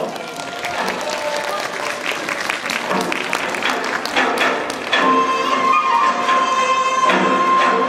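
An audience claps continuously at a children's kindergarten performance recital, a lively patter of many hands that swells louder toward the end, with a faint tone and some voices underneath.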